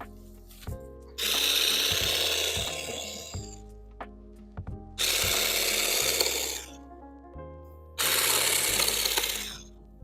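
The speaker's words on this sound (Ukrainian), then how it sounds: "Зараз будемо пробувати, як воно стриже все ж таки." Cordless RZTK CGS 7.2Li Dual Blade hedge shears trimming dense bushes and thick branches: three loud, buzzing cutting bursts of about two seconds each, separated by short pauses with light handling noises.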